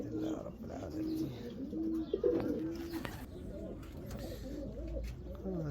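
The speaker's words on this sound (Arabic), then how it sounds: "هذا بعد جاي الحمام كله من سكاكة." Racing pigeons back from a 1000 km race from Sakaka cooing in a loft, repeated soft low throaty coos from several birds nearby, with someone talking over them.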